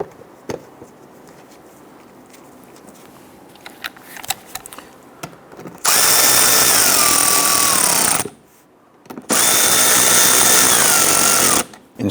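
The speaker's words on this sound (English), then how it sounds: "Get our lower screws installed." A power tool drives the lower screws on a 2011-2019 Ford Explorer during radiator replacement, with two loud sustained whirring bursts separated by a brief pause, following quieter clicks and handling noises.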